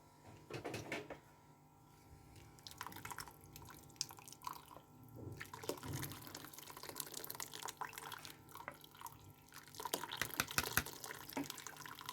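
Chicken yakhni broth dripping and trickling through a strainer, soft irregular drips and splashes close by, faint and unsteady with a few louder spills, no talking.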